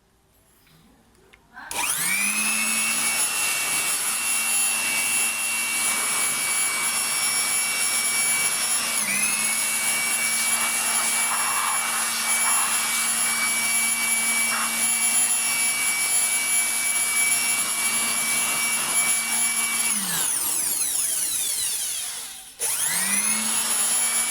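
An air compressor blows dust out of a very dirty computer case, a loud, steady rushing hiss that runs for about twenty seconds, with a brief dip partway and a short stop near the end.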